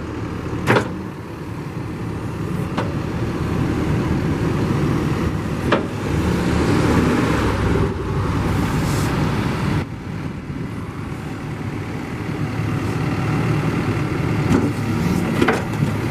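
A 2014 Caterpillar 420F backhoe loader fitted with a 4-in-1 bucket idles outdoors, a steady low diesel rumble holding even for about sixteen seconds with a few faint clanks and no talk.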